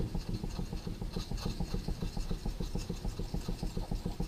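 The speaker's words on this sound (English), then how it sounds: "Let's work on the other side of the bevel and finish this one off." An axe blade is honed on a Japanese bench stone, producing rapid, evenly spaced back-and-forth rasping strokes, close and moderately loud, with no voice over them.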